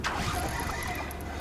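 A fishing reel's drag screams steadily as a big river trout runs line off it, a sustained high whine heard close to the reel, loud and continuous.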